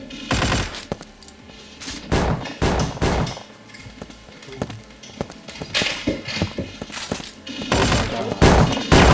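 Rapid pistol gunfire in the Brain Drain video game, with dense bursts of sharp shots that come and go in clusters across the clip, loud and close, and no talking.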